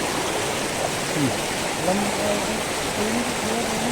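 A small stream flows with an even, steady rushing hiss throughout, close and constant, with faint tonal chirps or voices in the background.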